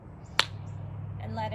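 A single sharp hand clap during a yoga session, short and fairly close, standing alone against a low steady hum before soft sounds follow.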